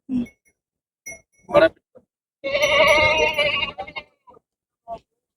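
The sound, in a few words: goat bleating at a livestock market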